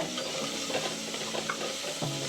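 Ginger and garlic stirred and frying in oil for Chettinad mutton kulambu, a soft continuous sizzle with scraping spoon strokes against the pan, fairly quiet and close.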